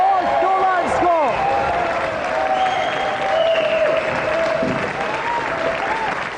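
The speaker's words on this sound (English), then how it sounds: "Round of applause, ladies and gentlemen, for our 3 planks." A studio audience at the close of a game show applauds steadily for the three contestants, a dense, continuous wash of clapping with scattered cheers; a brief whistle-like tone rises partway through.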